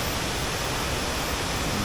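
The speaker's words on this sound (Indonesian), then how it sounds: "air terjun ini itu banyak tingkatannya" Penawangan Srunggo, a waterfall with many tiers, gives off a constant, even rushing hiss of falling water that fills the whole clip without voices.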